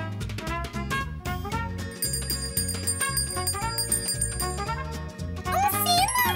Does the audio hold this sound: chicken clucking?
no